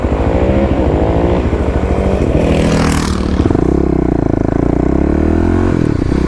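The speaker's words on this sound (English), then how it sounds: "Looks like he's got a little ripper right there. Looked like a Honda XR 650." A Honda XR 650 dirt bike passes nearby with a loud, throaty engine, its pitch sliding as it goes by and then fading into a steady drone.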